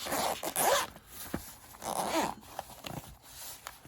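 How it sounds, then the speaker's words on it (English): Zipper on the compartment of a GoPro Hero 8 Black accessory case pulled in two quick bursts, close and crisp, with small rustles and clicks between the runs. "Got a nice zippered compartment here."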